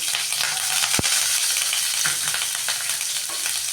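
Onions fry in hot oil with mustard seeds, cumin and curry leaves, a steady loud sizzle with occasional stirring scrapes and a sharp pop near the start.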